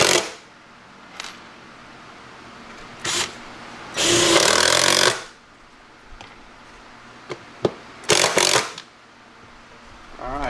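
A power drill countersinks screw holes in a stand for a California Trimmer reel mower, giving several short bursts, one long loud whine of about a second and a quick cluster of brief spurts near the end, separated by quiet gaps.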